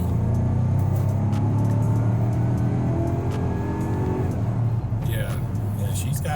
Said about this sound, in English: Did you hear the exhaust pop?